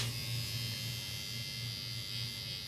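A Johnny B hair trimmer buzzes steadily at close range, a continuous electric drone with slight wavering pulses in its hum and no voices over it.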